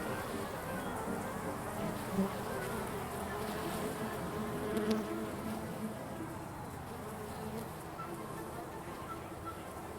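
Honeybees buzzing steadily around beehives at an outdoor beekeeping spot, a dense continuous hum from many insects close by, with faint voices in the background.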